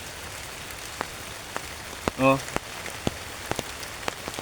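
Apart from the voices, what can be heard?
rain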